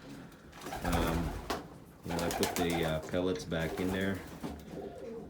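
Pigeons coo in a loft in repeated low rolling calls, close and steady, while someone talks over them.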